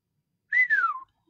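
A single short human whistle glides downward, clear and close in otherwise silent surroundings.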